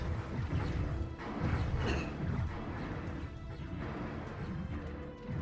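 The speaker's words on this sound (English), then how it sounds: "The crystal guys basically shoot crystal missiles." Crystal missiles fired during space combat in the Stellaris strategy game, a dense rumbling wash of overlapping impacts and crashes, loud and continuous with brief swells.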